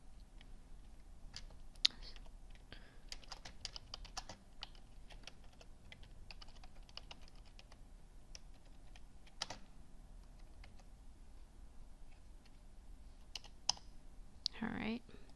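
Fast, irregular clicks of typing on a computer keyboard come in quiet, close bursts with short pauses, against a soft room background.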